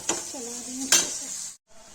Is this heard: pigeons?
no